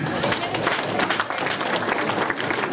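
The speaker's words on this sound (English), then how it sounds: "Now, give yourselves a big round of applause just for doing that." Audience at a Halloween party breaks into steady, dense applause that fills the whole stretch at close range, with a few voices mixed into the crowd noise.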